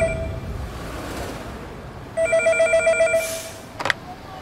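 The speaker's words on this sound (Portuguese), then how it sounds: "Quando um orelhão tocava, alguém tinha que chamar o vizinho pra quem era a ligação" A public payphone rings in a run of regular electronic trills that starts partway through, loud and close, followed by a short sharp burst near the end.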